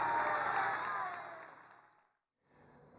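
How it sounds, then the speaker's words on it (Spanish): Warm applause from an audience fades out over about two seconds into silence, then a faint background hum returns. "le vamos a mandar un caluroso aplauso"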